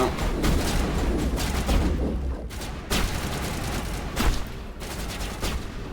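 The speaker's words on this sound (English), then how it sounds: "I'm being shot at." Repeated gunfire in the game Mass Effect, sharp loud shots spaced irregularly in quick clusters with booming impacts, close and dominant throughout.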